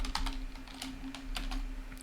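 Typing on a computer keyboard while a chatbot program is being entered: quick, light, irregular keystroke clicks close by over a faint steady electrical hum.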